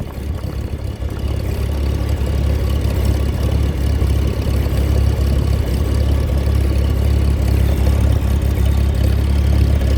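A Farmall Super A tractor engine idles steadily after being throttled down, giving a continuous loud low rumble with an even beat and no voices over it.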